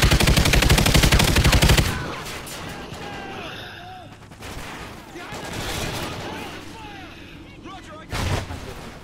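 Rapid automatic gunfire from the Call of Duty Ghosts multiplayer match, a dense loud burst of shots at the start, then scattered weapon and game effects with voices talking over them and another short burst near the end.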